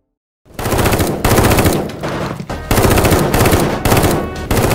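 Rapid bursts of automatic gunfire fill a film firefight between two armed groups inside a building, loud and close, with several sustained volleys separated by brief gaps.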